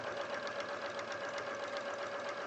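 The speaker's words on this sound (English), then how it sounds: "I'm just stitching just over the first little bit, just to make sure we've caught it all in" A sewing machine stitches binding onto fabric, a steady close whirring hum with a fast mechanical rhythm throughout.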